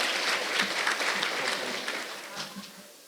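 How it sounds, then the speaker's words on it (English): An audience at a school district Teacher of the Year celebration applauds for an honored teacher, a dense, steady round of clapping filling the room, fairly loud and slowly thinning toward the end, with no voices over it. "Let's give a heartfelt round of applause for Andrea Concorin"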